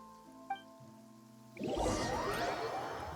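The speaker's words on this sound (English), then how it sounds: "It's been raining non-stop for a few days now." Rain falls in the video game Genshin Impact, in the Fontaine region. A soft musical tone gives way to a steady, fairly loud hiss of rainfall that continues to the end.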